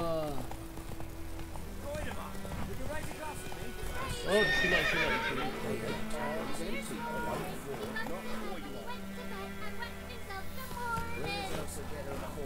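The horse Roach in the video game Witcher 3, with steady clip-clopping hooves and whinnies and neighs, one louder near the middle, along with game voices and someone talking over it.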